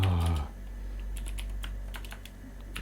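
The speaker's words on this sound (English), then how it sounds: "I'm starting to make lots of mistakes here in typing." Typing on a computer keyboard during late-night programming, heard as a steady run of light, rapid key clicks close by, alone with no talk.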